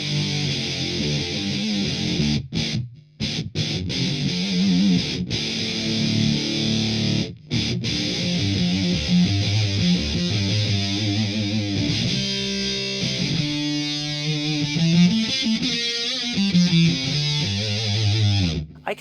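Electric guitar played hard through a Flattley Poison Ivy fuzz pedal, thick saturated compressed tone in sustained chords and riffs with a few abrupt stops, loud and continuous on its own.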